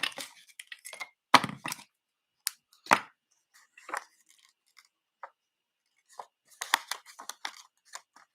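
Ribbon scissors snip through ribbon on a paper craft card, a series of short crisp cuts and rustles spaced irregularly with quiet gaps between, close and fairly soft.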